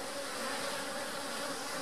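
Many honey bees hum continuously around an opened hive during an inspection after a split, a dense, even buzz heard up close for the whole moment.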